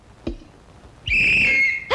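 A whistle is blown in a Tamil film scene: one long, loud, piercing shrill blast held for nearly a second, preceded by brief clicks and followed by another sharp burst.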